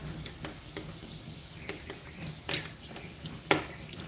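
Water runs and splashes softly while rinsing soap off a dog during grooming, a faint, steady trickle with a few small splashes and drips, no voices.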